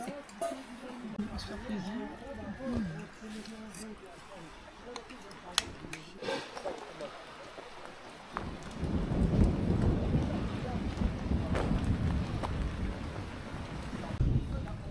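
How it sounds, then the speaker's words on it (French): Rain falling during a thunderstorm in the High Atlas mountains of Morocco, a steady hiss that swells and grows louder partway through, with wind buffeting the microphone and voices talking now and then. "Je vais avoir un orage. Il pleut."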